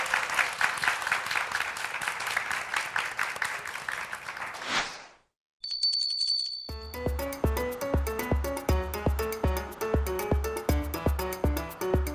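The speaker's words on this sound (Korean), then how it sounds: "큰 박수로" An audience claps loudly at the opening of a youth startup audition show, steady dense applause that stops abruptly, followed by a brief chime and then rhythmic music.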